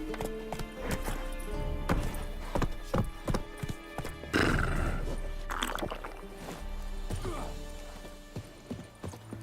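Roach, Geralt's horse in The Witcher 3, trots with rhythmic, close hoof clip-clops and a brief neigh over steady game music and ambience.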